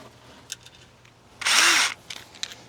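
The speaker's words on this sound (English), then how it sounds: "So I'm using a little tiny drill bit." A power drill with a tiny bit whirs in one short high burst of about half a second, with faint clicks and handling noises before and after.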